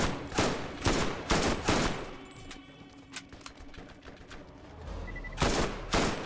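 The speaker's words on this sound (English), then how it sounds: "he fires like triple spread rockets your way" Enemy weapon in the Borderlands video game firing triple spread rockets, a run of loud, rapid blasts in two bursts at the start and end, with a quieter rumbling stretch between them.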